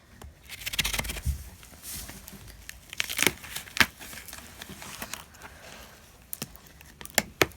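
Bale pruners slicing and tearing open the plastic wrapping on a goat salt lick brick, a soft run of close crinkling, rustling and sharp crackles, fairly faint, with no talking.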